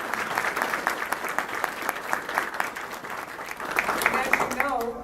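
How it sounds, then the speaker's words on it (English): A crowd at a La Habra school district cornerstone rededication ceremony applauds school administrators: sustained, fairly distant clapping with scattered sharper claps, swelling toward the end as a voice begins speaking. "let's give our administrators a huge round of applause"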